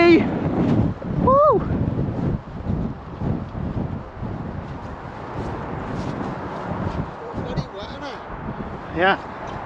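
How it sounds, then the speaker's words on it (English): Gusty wind buffets the microphone in uneven rushes while people talk and call out as cattle are let out to grass, with occasional bird chirps in the background. "Oh, it's a bit windy."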